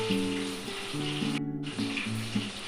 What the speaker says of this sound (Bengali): এখানে ভাজতে শুরু হয়ে গেছে।